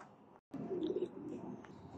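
Teddy pigeons for sale in Faisalabad coo in a soft, low, steady murmur that swells briefly near the start, with no talk over it.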